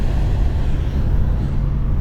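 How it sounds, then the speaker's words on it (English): A Holden Torana GPAK on the road, its engine chuffing and spewing oil out the breather, gives a steady low rumble with broadband road noise and no talk. "The engine's chuffing a bit too, it's spewing oil out the breather"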